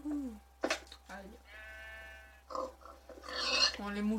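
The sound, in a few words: sheep bleating in Minecraft video game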